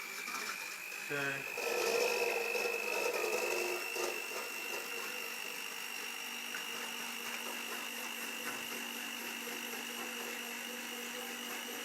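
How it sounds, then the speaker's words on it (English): An electric mixer whirring steadily as it beats egg whites to stiff peaks, a continuous high buzzing drone that holds level throughout, with a brief spoken word near the start. "so now we've finished beating our egg whites"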